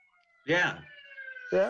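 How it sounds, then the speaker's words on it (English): An emergency siren passes outside, a steady wailing tone held for over a second between two short bursts of talk, moderately faint and distant beneath the nearby voices. "That's the ambulance coming by."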